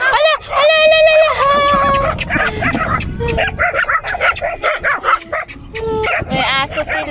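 A dog at a camel farm in the Kuwait desert gives repeated yips and whimpering barks, close and loud, mixed with excited voices talking over it.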